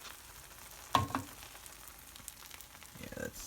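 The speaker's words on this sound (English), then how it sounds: "the egg is starting to slightly bubble like that" An egg fries in a pan with a soft steady sizzle, broken by a sharp clatter about a second in and a low rumbling shuffle toward the end.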